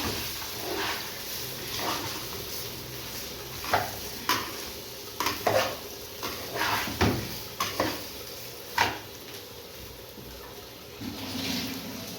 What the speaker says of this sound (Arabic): هنشوحها كده عشان نشرب سمنتها.